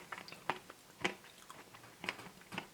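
A Magnum Utopia Double Cherry ice cream bar gets bitten and chewed, four or five crisp crunchy snaps of the chocolate shell spaced by quieter chewing, up close and fairly soft.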